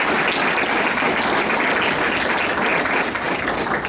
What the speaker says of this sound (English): Would you give her a round of applause?